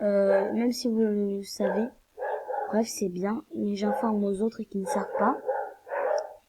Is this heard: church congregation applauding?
no